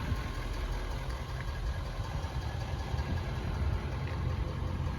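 Two Ford F250 XLT diesel pickup trucks idle side by side, producing a steady low, even rumble with no knocking, continuous and close with no voices.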